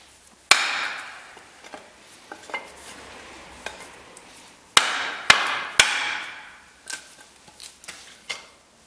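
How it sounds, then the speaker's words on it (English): A hammer lands light taps from underneath on a rusted strut top mount: a handful of sharp metallic knocks at irregular intervals, a few louder than the rest, with faint clinks between. "So it needs a bit of light tapping from underneath to get the"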